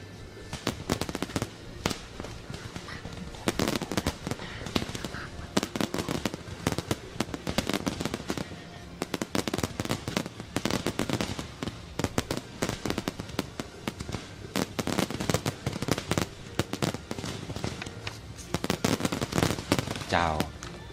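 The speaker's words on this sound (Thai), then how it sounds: "เสียง ดอกไม้ไฟดังสนั่นทั่วสนามหลวง" Fireworks at the 50th-anniversary Laos national day celebration: continuous dense crackling and booming bursts for over twenty seconds, some near and loud, others distant, with voices faintly underneath.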